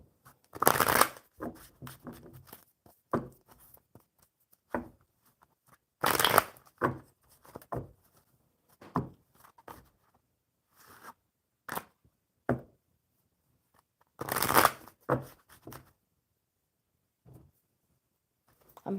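Tarot cards shuffled and drawn from a deck at close range, with repeated bursts of riffling and slapping separated by quieter pauses and soft handling noises, with no voice.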